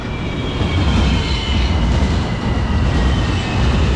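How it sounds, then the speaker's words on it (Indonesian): Inside a moving LRT carriage on the Sentul Timur line in Kuala Lumpur: a steady low rumble of wheels on track with constant rushing noise, no talking. "So, beginilah suasana LRT laluan Sentul Timur."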